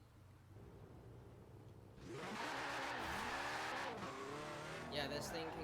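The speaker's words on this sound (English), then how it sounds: "Porsche 2019 911 Carrera" A 2019 Porsche 911 Carrera S in Forza revs up sharply and then holds a loud, steady engine roar. A brief tire squeal follows near the end.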